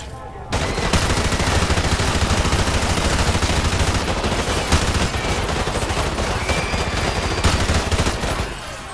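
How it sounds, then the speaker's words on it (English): Dense, continuous automatic gunfire rattles loudly during the airport shooting in the Modern Warfare Remastered video game, bursts overlapping without pause after a brief quiet start. "basically shoot up an entire Russian airport"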